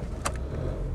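Diesel Land Rover Discovery 300 TDI automatic, a low, steady engine rumble close by with one short, sharp burst near the start, no voices.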